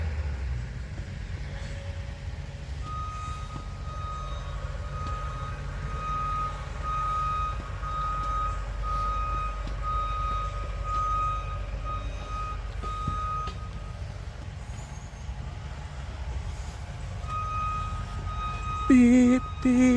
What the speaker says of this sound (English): I won't be here too long because of the beeping beeps.